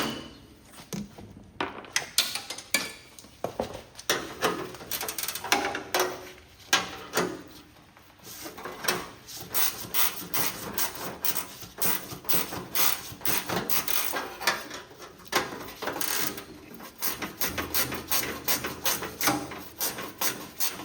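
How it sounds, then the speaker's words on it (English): Muffler bolts being taken off a Cub Cadet lawn tractor, heard as dense ratcheting clicks, metallic clanks and rattles in uneven bursts with short pauses, close and fairly loud throughout. "So we're going to go to the other side and get them two bolts off."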